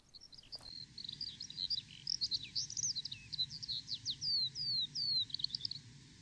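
A skylark sings a rapid, continuous stream of high chirps and trills, fairly distant and clear over a low background hum.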